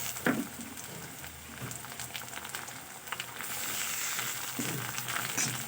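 Chopped tomato and onion frying in hot oil for a Bengali fish curry, a steady close sizzle with occasional scrapes and stirring knocks, no talking.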